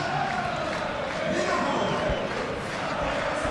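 Stadium crowd noise from the football video game Football Life 2026, a steady roar of many voices filling a match-day evening, broad and continuous without any standout chants or peaks.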